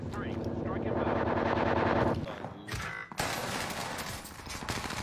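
Call of Duty video-game gunfire rattles in rapid automatic bursts, with one burst breaking off abruptly midway before more shots follow. Sounds of play mingle with it, and a person speaks over the action.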